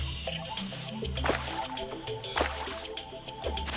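Flowing waterfall in the video game Terraria, a continuous splashing, dripping wash of water with bubbly liquid sounds, moderately loud and steady throughout.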